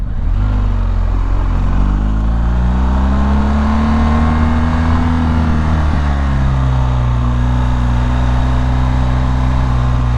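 A BMW R1250GS motorcycle is ridden along the winding Mulholland Highway through Malibu, its engine droning loudly and steadily with pitch rising and falling through the bends, wrapped in heavy wind rush.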